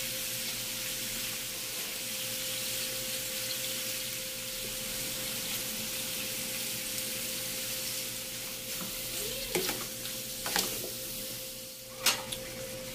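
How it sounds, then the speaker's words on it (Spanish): Shrimp frying in butter until golden, giving a continuous even sizzle with a few utensil clinks and scrapes near the end. "Eso lo vamos a freír hasta que estén doraditos. Ahí en la mantequilla."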